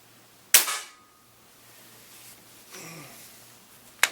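A Mac 357 air rifle firing a lighter pellet over a chronograph: a sharp, loud crack near the start, then a fainter rattle mid-clip and another sharp snap at the very end, with no talk.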